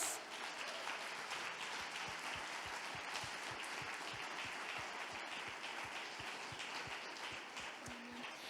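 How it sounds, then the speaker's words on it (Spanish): A church congregation applauds steadily and loudly throughout, a dense wash of many clapping hands with a few sharper individual claps standing out, continuous from start to finish. "Denle un fuerte aplauso a Dios"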